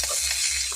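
Potatoes frying in a hot pan of oil after green chilli and ginger have gone in, giving a short, steady hiss of sizzling with no voices.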